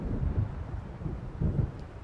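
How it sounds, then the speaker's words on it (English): A thunderstorm in the Alan Wake video game rumbles low and distant, with rolling thunder swells over wind and rain noise and no voices. "It seems there's a storm coming."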